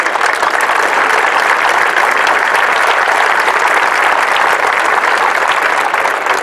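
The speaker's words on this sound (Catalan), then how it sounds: "també un aplaudiment per totes aquestes entitats que s'hi sumen" A large crowd applauds loudly and steadily at a political rally in Vic, a dense wash of clapping that holds evenly throughout.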